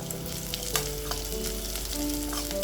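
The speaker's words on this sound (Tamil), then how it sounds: "பூண்டு கருவேப்பிலை எல்லாம் நல்லா வதங்கிருச்சு" Garlic and curry leaves fry in a hot pan with a steady, close sizzle, and faint tonal music plays underneath.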